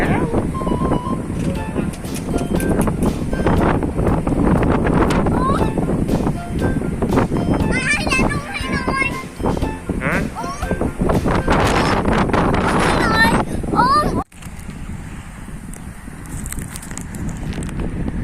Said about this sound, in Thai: ลมแรงฝนมาแล้วก็ดูนาดิดูทุ่งนาดิลมแกว่งอ่ะ